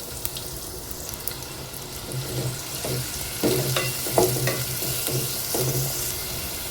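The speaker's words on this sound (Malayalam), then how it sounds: "ചൂടായ വെളിച്ചെണ്ണയിലേക്ക് 2 സവാള ചെറുതായിട്ട് അരിഞ്ഞത്," Two finely chopped onions go into hot coconut oil in a pan, giving a soft steady sizzle broken by louder scraping and stirring knocks from a utensil, close and with no talking.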